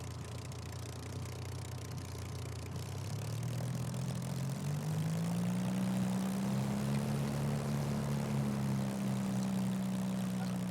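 A simulated Supermarine Spitfire Mark IX propeller engine idles low, then revs up around three seconds in, its pitch rising and settling into a louder, steady drone.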